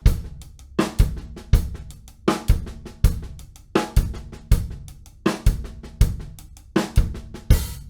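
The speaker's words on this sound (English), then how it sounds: "If I split this up between the hi-hat and the snare drum and still keep my bass drum following" A paradiddle groove on a drum kit, sticking split between hi-hat and snare drum with the bass drum doubling each right-hand accent, plays alone in a steady, punchy funk pattern of sharp, evenly spaced hits.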